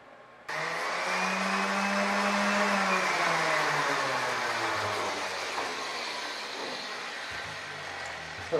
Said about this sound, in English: first thing I'm going to do is cut this pipe oversized